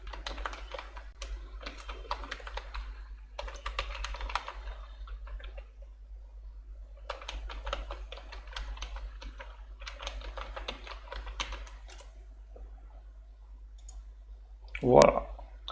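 Bursts of rapid key clicks on a computer keyboard while filling in an account registration form, with pauses between fields and a louder single thump near the end.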